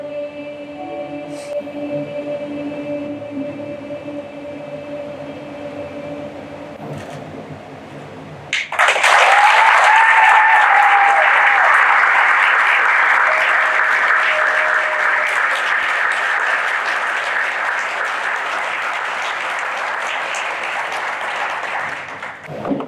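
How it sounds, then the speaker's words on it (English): Audience applause for a high school choir at a school district performance event, a loud sustained burst of clapping that breaks out suddenly after quieter music and continues steadily until the end. "Can we give them another round of applause?"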